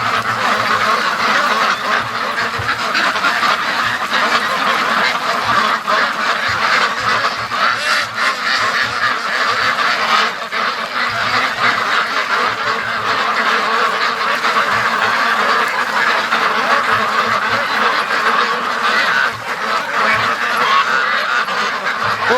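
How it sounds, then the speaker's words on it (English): A flock of Muscovy and other free-range ducks on a lake keeps up loud, continuous overlapping quacking and honking calls, close and dense throughout. "it looks like the Muscovies are the last at the end there."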